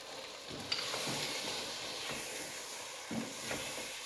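Ground spices including chilli, turmeric, cumin and dried coriander powder roasting in a hot pan for chicken achari, a steady soft sizzle and hiss with a few faint scraping stirs, close and continuous.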